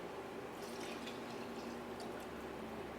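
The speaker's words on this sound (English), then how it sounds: "I'm gonna go ahead and add our veg broth in." Vegetable broth is poured into a cooking pot on the stove, giving a soft, steady liquid gurgle and splash with a few faint higher spatters, quiet and without talk.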